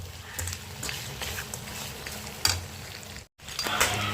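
Venison pieces fry in a pan while being stirred, giving a continuous sizzle with scraping strokes and a few clanks. There is a brief dropout near the end.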